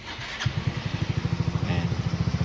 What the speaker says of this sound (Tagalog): Paparinig ko sa inyo yung makina. As in, parang stock lang kung tumunog.